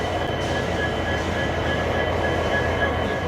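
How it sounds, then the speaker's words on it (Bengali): A passenger train pulls out of the station in a steady, close rumble of rolling wheels and carriage noise with a faint metallic whine, while no horn or voices stand out. "ট্রেনে হর্ন দিয়ে দিয়েছে আর ট্রেন নির্ধারিত সময়েই ছাড়লো।"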